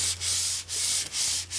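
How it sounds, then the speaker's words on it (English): Folded 100 grit sandpaper is rubbed lightly along an atlatl dart in four quick, even strokes, a close, hissing scratch with a low hum behind it. "I've got it folded over in thirds, and I'll just fold it right around the dart like this and sand it very lightly."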